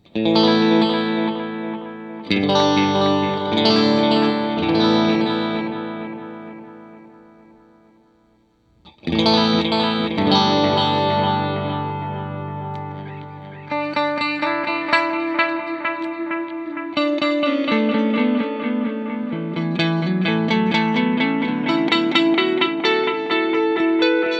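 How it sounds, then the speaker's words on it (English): Electric guitar strums and picked phrases trail off through a bucket brigade setting on a TC Electronic Nova Delay ND-1, a warm, repeating analog-style delay, with echoes smearing into each other over a long passage. "we can go to a bucket brigade setting, which gives us an analog kind of sound"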